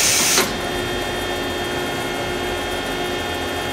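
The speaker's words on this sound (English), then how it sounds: "There's the tool changer." Wasino WMC3 vertical machining center's tool changer gives a loud broadband burst in the first half second, then a steady mechanical hum with tonal whine carries on alone.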